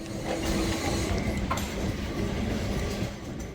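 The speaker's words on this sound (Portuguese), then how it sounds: "Legal que em alguns pontos ele muda de trilho." Lisbon's line 28 tram rolls along its rails in a continuous close rumble with faint rattling and wheel noise, some tracks switching rails along the route; no one speaks.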